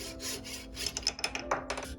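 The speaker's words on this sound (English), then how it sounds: "I'm using a hacksaw with a fine 32 TPI bimetal blade" A hacksaw with a fine 32 TPI bimetal blade cuts a carbon fiber bicycle fork steerer, making close, dry rasping strokes in a quick, uneven back-and-forth rhythm.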